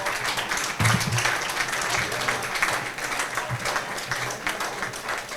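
A standing audience at a Lagos law and tax event applauds the Dean of the Faculty of the University of Lagos with dense, continuous clapping that stays loud and steady throughout, with faint crowd murmur beneath.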